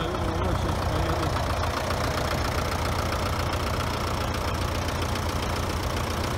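An MTZ 921.3 tractor diesel engine idling just after starting, a loud, close, steady rumble with a continuous knocking chug and no pauses.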